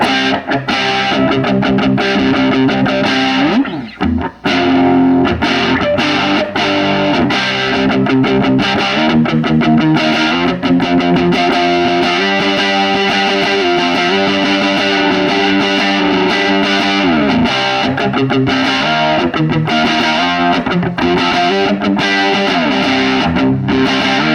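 A loud, dry distorted electric guitar through a 1953 Magnatone amplifier plays chords and riffs continuously with no reverb, briefly pausing once early on.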